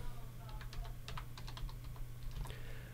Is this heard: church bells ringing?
no